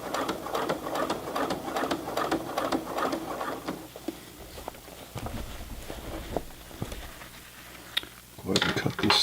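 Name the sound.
Brother PC 420 sewing machine stitching Levi's jeans hem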